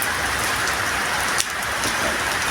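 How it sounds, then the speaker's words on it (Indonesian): Steady rain pours down during a fishing outing in Kajoran, Magelang, a loud, even hiss of drops on surfaces with one brief knock partway through. "Soalnya cuaca gimana pak? Hujan teman-teman."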